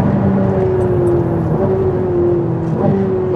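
A car driven fast around a track lap, its engine whining in a steady, loud drone with brief pitch shifts as it changes gear, heard from close inside the car without talk.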